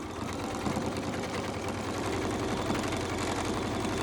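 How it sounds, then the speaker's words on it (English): A sewing machine running steadily during free-motion quilting, a close, continuous rapid mechanical whir and needle rattle. "I'm trying to move my quilt top with an even amount of speed as my machine is going"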